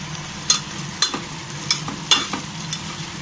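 Pulao ingredients fry in a pan with a steady sizzle while a spoon scrapes and stirs in quick strokes about every half second, loud and close, with no voices.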